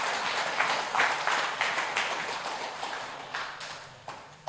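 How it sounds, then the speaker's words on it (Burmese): Audience applause at a prize-giving event, a moderately distant crowd clapping steadily with scattered sharper claps standing out, no voices on top. "ကဲလက်ခုပ်တီးပေးမယ်လက်ခုပ်တီးမယ်"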